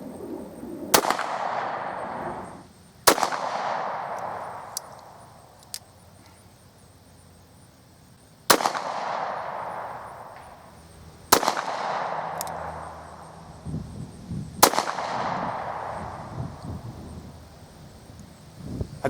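Pistol shots at a shooting range, with a Beretta 92 FS among the guns, five loud sharp cracks spaced a few seconds apart, each ringing out with a long echoing tail, plus a couple of fainter pops.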